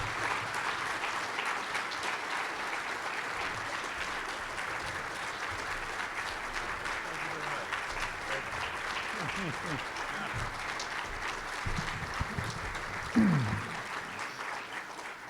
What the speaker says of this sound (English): we should stand and give him a round of applause